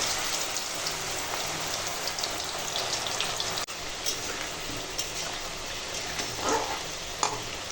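Potato pieces fry golden in hot oil, a fairly quiet, steady crackling sizzle with scattered pops and a brief clatter near the middle, with no talk.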